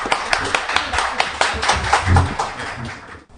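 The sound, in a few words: audience clapping to welcome a guest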